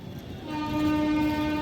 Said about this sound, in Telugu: ఇదేనండి జైపూర్ రైల్వే స్టేషన్